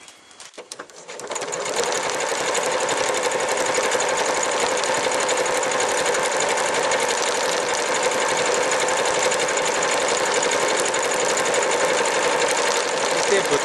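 Elna 6200 computerized quilting sewing machine stitching a programmed pattern, starting after a brief pause and then running at a steady, loud, continuous whirring hum until the end.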